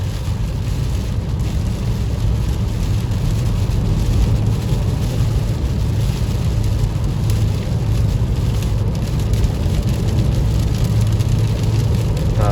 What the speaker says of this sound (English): But we do have some heavier rain.